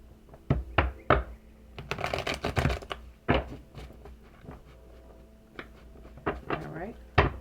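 Tarot cards being shuffled during a spiritual reading, heard as a run of crisp papery riffles and taps, loudest in a dense burst near the middle, with a voice speaking intermittently.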